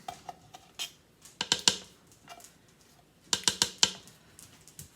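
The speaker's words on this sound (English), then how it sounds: "So mashing, mashing, mashing, mixing, mixing, mixing." Potato casserole being mashed and mixed in a bowl, irregular clinks and scrapes of a utensil against the dish, coming in quick clustered bursts separated by quieter gaps.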